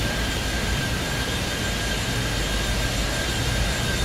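A plane takes off in Airport Madness 3D, its engine a steady, loud, broad jet roar with thin tonal whines holding level throughout, and no talking.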